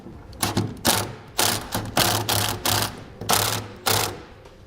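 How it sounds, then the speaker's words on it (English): A 3/4-inch socket wrench ratchets hitch bolts on a Curt double lock underbed gooseneck hitch installation on a 2007 truck, giving repeated bursts of clicking strokes in a steady rhythm, close and clear with no talking. "Next, we'll take a 3/4-inch socket. And you don't want to tighten these down all the way."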